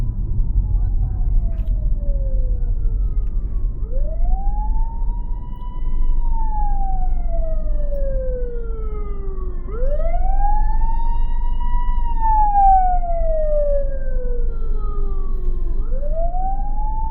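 An ambulance siren wails in slow rising and falling sweeps through street traffic in Accra, loud and close over a low rumble of engines.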